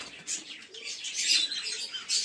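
Faint, high chirps and squeaks from pigeons inside a loft come in short bursts over a quiet background.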